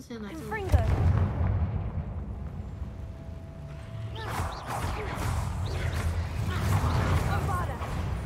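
Blasts from the Confringo spell in the video game Hogwarts Legacy, a few booming explosive hits over rumbling game sound, with a voice talking over them.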